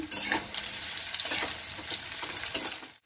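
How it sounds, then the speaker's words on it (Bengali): Chopped onion sizzling and frying in hot oil in a pan with potato, eggplant and nigella seeds for a drumstick chorchori, a steady close crackle with stirring scrapes throughout. "এবারে আমি পেঁয়াজটা দিয়ে দেব।"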